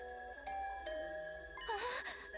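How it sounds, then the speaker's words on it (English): A doorbell chimes in the video game The Hundred Line: Last Defense Academy, a clear ding-dong tone ringing out over soft game music, with a brighter swell near the end. "My heart did a somersault when my doorbell rang."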